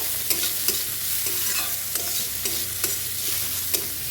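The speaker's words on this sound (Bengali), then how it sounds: "পেঁয়াজটাকে এখন একটু লাল লাল করে ভেজে নেব।" Chopped onions fry in a pan with a steady broadband sizzle while a utensil stirs them, giving regular scraping taps about twice a second, close and clear with no talk.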